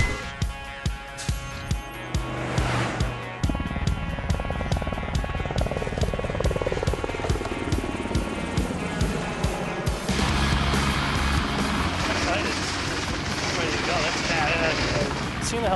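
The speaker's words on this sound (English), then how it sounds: "Seeing the helicopter land" UH-60 Black Hawk military helicopter coming in to land nearby, a loud continuous rotor roar and whine with shifting pitch and a sudden change partway through, voices talking over it.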